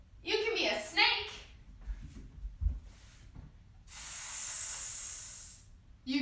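A voice imitates a snake's hiss as a yoga pose, one long steady breathy hiss lasting about two seconds, heard after a stretch of children talking.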